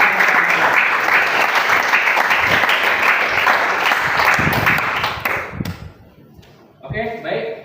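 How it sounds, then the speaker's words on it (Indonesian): A classroom group claps steadily in sustained applause that fades out after several seconds, followed by a brief voice. "Tepuk tangan dulu."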